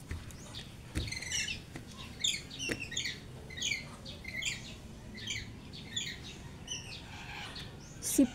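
Parrots give repeated short shrill chirps and squawks at a moderate distance in an irregular series, over a quiet background.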